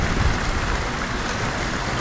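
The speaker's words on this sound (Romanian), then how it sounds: "Absolut teribilă furtună" Heavy rain from a strong storm pours down around a mountain cabin, a dense, unbroken roaring hiss filling the whole stretch with no voices.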